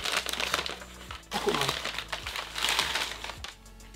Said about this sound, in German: Also es kommen wohl die Sachen alle in so einen schönen Papiertüten mit Sticker.